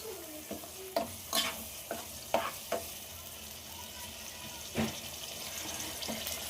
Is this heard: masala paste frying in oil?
yes